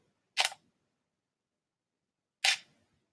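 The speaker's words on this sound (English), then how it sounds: "This will be a 2-second shutter speed." Two crisp camera shutter clicks about two seconds apart during a 2-second exposure, the first opening and the second closing, in an otherwise silent room.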